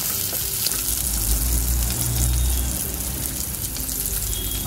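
Onion pieces frying in hot oil for semolina pulao give a loud, continuous close sizzle with a low bubbling rumble, and a faint stir or two is heard, with no voices.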